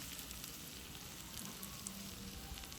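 Spoonfuls of Dominican yuca arepita batter frying in hot oil in a pan, giving a continuous, dense sizzle at a steady level, close and alone, with no voices.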